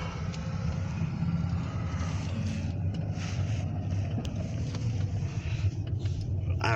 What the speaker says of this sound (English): this is a Tri-County garbage truck having a little bit of wheel issues